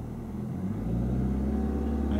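A car engine idles in a low, steady rumble, then rises gently as the gas pedal is pressed lightly during a driving lesson. It is close and continuous, with no speech.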